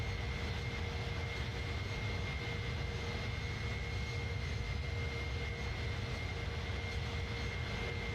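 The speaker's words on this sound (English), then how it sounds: "Sounds like an Airbus, lol. Pretty much, yeah, with old engines." Steady, continuous roar of Airbus A310 jet engines with older engines in Microsoft Flight Simulator 2020, a constant broadband drone with a faint tonal whine throughout.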